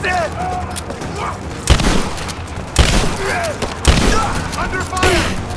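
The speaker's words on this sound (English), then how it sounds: "Under fire!" Gunfire in the action game Rise of the Tomb Raider: a few heavy, booming shots spaced about a second apart over continuous battle noise, with shouting voices mixed through.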